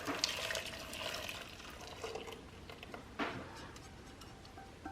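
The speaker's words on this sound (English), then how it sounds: "So I'm just going to pour this over this cream cheese." Hot custard, cooked to about 185 degrees, is poured over cream cheese, giving a continuous soft liquid splashing and trickling with a few sharper spatters, close and steady for the whole stretch, with no talking.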